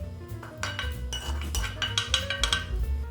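Meat and sauce being plated onto a dish, with repeated close clinks and scrapes of utensils against crockery over a steady low kitchen hum.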